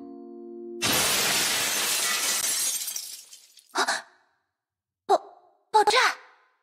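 A loud glass-shattering explosion bursts out in a video game, its crash scattering and fading over about two seconds before a few short voice exclamations.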